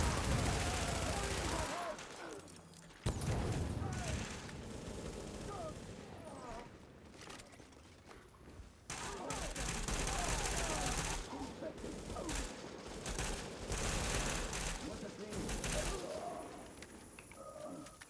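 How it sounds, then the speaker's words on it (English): An enemy fires rapidly in the video game The Division, sustained loud bursts of automatic gunfire that fill the clip with brief gaps, dense and chaotic, with voices mixed in. "Sound of that gun he has"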